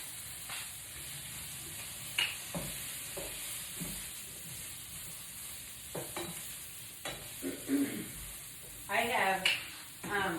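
Onions and asparagus sizzling in a pan, a steady hiss with scraping stirs and a few utensil knocks on the pan, while a voice talks intermittently over the frying.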